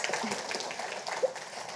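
An audience at a business school parent and family orientation claps briefly and faintly, a soft patter of scattered hands heard at a distance.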